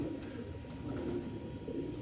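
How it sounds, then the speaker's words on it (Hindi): A lightweight pigeon held in the hand gives a steady low cooing, faint and close, with no talk. "और लाइट वेट कबूतर।"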